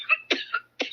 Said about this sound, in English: You notice how she's just coughing conveniently through this whole conversation?